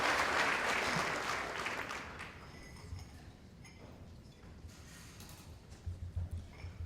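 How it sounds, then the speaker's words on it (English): Applause from a banquet crowd starts strong, then tapers off into scattered claps and fades to quiet. "Let's give the advisory committee another round of applause."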